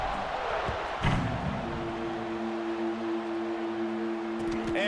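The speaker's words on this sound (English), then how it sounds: "this crowd is buzzing after that last score" A steady roar from a stadium crowd in a football video game, constant broadband buzz with a sustained tonal hum layered in, a brief thump near the start, and faint commentary in the background.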